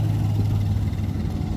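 Chevrolet Silverado or Ram pickup engine with a Walkingshaw full exhaust system idling outdoors, a loud, deep, steady rumble close by with no voices.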